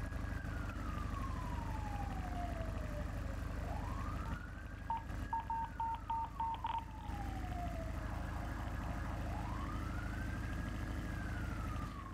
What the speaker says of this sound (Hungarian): most szirénázik valahol egy kocsi, vagy most Marki játszol éppen valami hangot